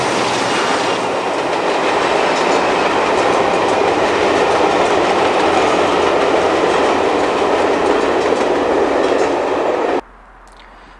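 A loud Class 52 diesel-hydraulic locomotive, D1015, hauls a train close by past Roman Bridge in the Conwy Valley, with steady roaring engine noise and rattling wagons, then cuts off abruptly near the end.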